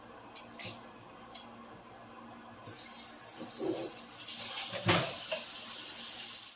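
Water is poured into a boxed meal, starting with a few light taps before a steady splashing pour runs continuously for several seconds, close and fairly loud with no talking.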